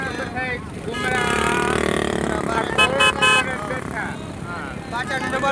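Traffic at Madhavpur beach, with motorcycle engines revving and a short burst of car horn honks mid-way, all heard under continuous nearby talking.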